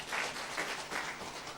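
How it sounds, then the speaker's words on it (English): An audience at a fish farmer competition gives a short burst of applause, soft and somewhat distant, with steady pulsing waves of clapping. "So even the clapping should be as passionate as how the life is lived."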